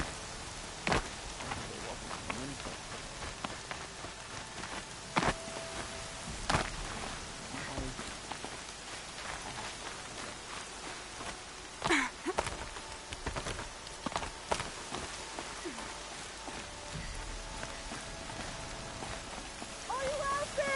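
Heavy rain patters steadily across the world of the video game Horizon Zero Dawn, with scattered louder clicks and thumps and a faint voice-like tone partway through, all fairly quiet.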